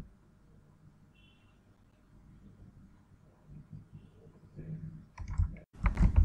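A computer mouse clicks to place an online order, coming as a few sharp, fairly loud clicks near the end after a stretch of quiet room hum.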